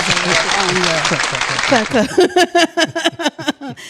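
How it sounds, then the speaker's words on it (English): Audience applause breaks out at a talk as a guest is introduced, a dense patter of clapping that thins into separate claps toward the end, with a voice speaking over the start. "give him a hand of applause"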